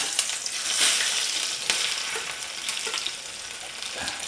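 Steady crackling sizzle of small shallots frying in a pan for a Thrissur-style mackerel curry, with occasional stirring scrapes, close and continuous throughout.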